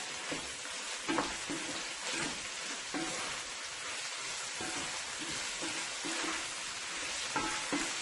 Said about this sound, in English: I am going to add my seasoning, the remaining of my seasoning. And give this a nice toss here.